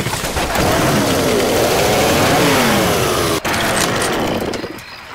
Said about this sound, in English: Chainsaw here.